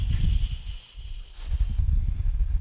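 A long hissing exhale imitates a snake during Pilates breathing, a steady airy hiss that drops out briefly and then returns over a low, rumbling background.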